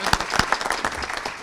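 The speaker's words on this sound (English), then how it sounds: "let's give them a round of applause." Scattered, fairly faint clapping from an outdoor Memorial Day ceremony crowd, with a handful of distinct claps rather than a full roar, brief and light.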